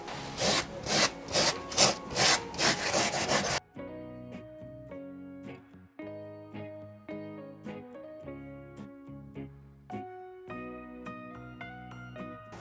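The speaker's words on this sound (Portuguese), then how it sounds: "Estou utilizando essa lixa de madeira, gramatura 50" Grit 50 wood sandpaper rubs styrofoam in quick, rhythmic scratchy strokes, about eight in a row, loud and close; after a few seconds the sanding stops and music takes over.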